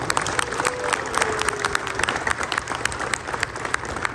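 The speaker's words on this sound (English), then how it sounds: "Let's give one more time a round of applause for our Aboriginal leader." A crowd at a political visit to a steel company applauds, a continuous patter of many hands with distinct close claps standing out and a faint murmur underneath.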